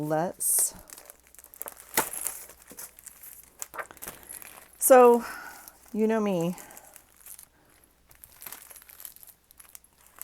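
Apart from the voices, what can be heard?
plastic wrap being crumpled and torn off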